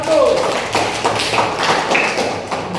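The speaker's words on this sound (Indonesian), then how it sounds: "Tepuk tangan untuk kelompok 1." Classroom group members clap together in a quick rhythmic burst of taps and slaps, fairly close, with voices talking and calling out over the clapping.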